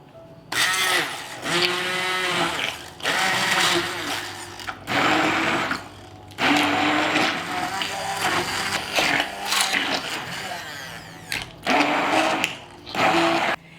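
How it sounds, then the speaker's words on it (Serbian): An immersion blender purées liver pâté with melted butter, whirring loudly in repeated bursts of several seconds each with short pauses between, its pitch rising and falling as the blade works through the mixture. "i sve ću to izmiksati sa štapnim mikserom"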